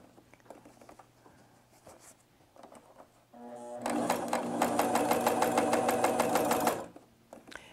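A cover stitch machine sews a hem on fabric, a fast steady stitching chatter that starts suddenly, runs for about three seconds and stops, with faint handling sounds before and after.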